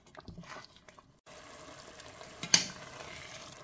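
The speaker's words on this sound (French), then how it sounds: "Et je vais laisser tout ça gentiment cuire à feu moyennement fort de préférence." Jollof rice tomato sauce with chicken cooking in a pot over medium-high heat, a soft steady bubbling and sizzle close by, with a brief clatter near the middle and no talk.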